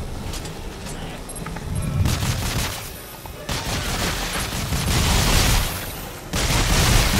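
Sustained gunfire and booming impacts build in waves during a firefight in Dead Space 3, a loud, dense barrage that swells and drops across the clip with no clear voices.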